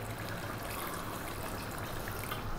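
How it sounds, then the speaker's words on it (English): Water pours steadily into a pot of dhaba-style mutton masala curry, a soft continuous trickle and gush that runs alone for a couple of seconds. "So in goes a bit of water."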